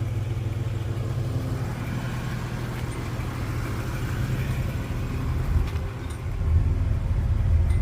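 The rebuilt V6 engine of a 1993 Nissan Pathfinder XE idles, giving a steady low rumble that holds close and even throughout, swelling slightly near the end.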